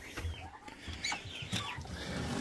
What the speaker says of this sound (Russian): Индюшаки.